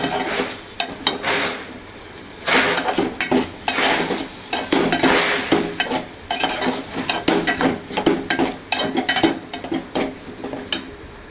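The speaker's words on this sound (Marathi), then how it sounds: "वाटप पण मी चांगलं परतून परतून घेते" Onion and grated coconut paste stirred and fried in a pan for a Marathi home-style vegetable dish, with a steady sizzle and repeated scraping, clattering strokes of a spoon against the pan, close and loud with no talk.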